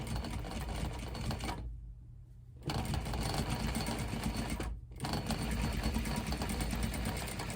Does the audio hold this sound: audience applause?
no